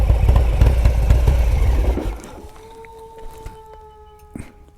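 A motorcycle idles through an aftermarket exhaust with a deep, throaty rumble close by, then the engine is switched off and dies away, leaving faint ringing and ticking.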